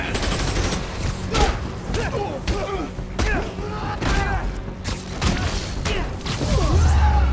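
Rapid bursts of gunfire and heavy thuds from Marvel's Spider-Man: Miles Morales on PS5, loud repeated shots layered with game effects, with a voice talking over parts of the action.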